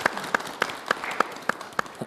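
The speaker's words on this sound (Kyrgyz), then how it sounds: "катуураак кол чаап коелу" Sparse clapping at a casting event, roughly seven sharp, evenly spaced claps in a slow rhythm over a faint room background, close and clear.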